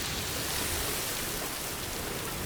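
Heavy rain (timefall) pours without a break in the video game Death Stranding 2, a dense, loud, even hiss filling the scene with no talking.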